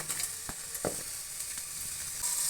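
Guntur chillies, cinnamon, cloves and black pepper sizzle in hot oil for an egg and chicken sambar, a steady close frying hiss with a few soft stirring knocks and no talk.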